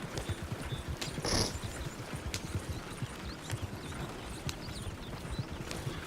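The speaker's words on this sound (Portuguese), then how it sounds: "Olha os cavalos." Horses' hooves clip-clop in Red Dead Redemption 2, a steady rapid trotting rhythm of soft thuds over the ground, continuous and fairly close.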